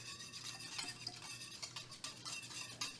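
A utensil scrapes and swirls steadily through an agar mix in a saucepan, soft continuous stirring with light metallic scraping over a low background hum.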